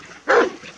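A single short, loud bark from a Romanian Corb shepherd dog on a farm near the mountains, close by and sharp against a quiet background.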